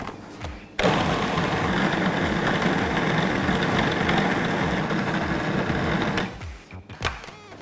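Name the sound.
food processor blending peanuts into peanut butter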